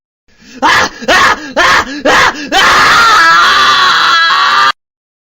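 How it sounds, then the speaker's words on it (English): Cartoon character yelling and screaming: four short, sharp shrieks in quick succession, then one long sustained scream held for about two seconds before cutting off, loud and close with no other talk. "It's a Rob cartoon. There's gonna be yelling in it at some point."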